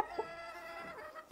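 A rooster gives a couple of short close clucks at the start and again near the end, over a steady hum of background noise, with no talk.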